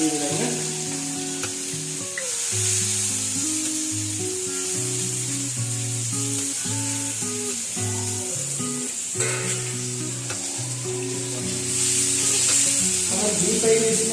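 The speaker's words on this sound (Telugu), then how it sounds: "ఆయిల్ వేడి అయిపోయింది కాబట్టి మనం ఆనియన్ డీప్ ఫ్రై చేస్తున్నాం" Chopped onions deep frying in hot oil for homemade dum biryani give a steady, bright sizzling hiss that runs throughout, partly masked by louder melodic background music.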